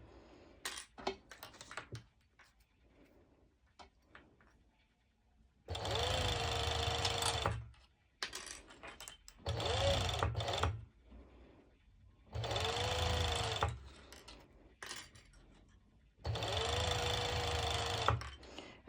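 A serger sews the longer side seam of a Bonnie cut-out cover-up dress, running in four loud whirring bursts of about two seconds each, separated by quieter pauses with small handling clicks.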